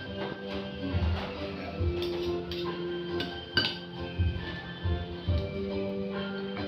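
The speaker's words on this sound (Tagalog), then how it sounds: "Haluin natin ito." Metal utensil clinking against a pot while a simple Filipino home-cooked dish is stirred, a series of light clinks and taps at an irregular pace over a steady background hum.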